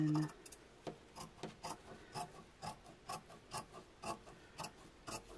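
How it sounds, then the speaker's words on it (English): Scissors trimming the fabric seam allowance of a dress made from a 1918 pattern, a series of quiet, regular snipping and rasping cuts repeating about twice a second, close and faint. "We're going to trim the seam allowance"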